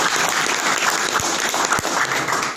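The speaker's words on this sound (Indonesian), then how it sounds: "Berikan aplaus buat si anaknya." Audience applause at a seminar in a company head office, dense clapping from a roomful of people, loud and continuous throughout with a few sharper individual claps standing out.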